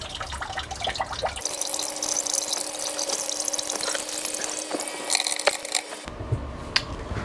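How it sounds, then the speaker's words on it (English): Water drains slowly from a clogged bathroom sink, a steady close gurgling and trickling with occasional drips and small clinks that carries on throughout. "Let's see if we can get some of this water out of here. That'd be good. Let that drain slowly."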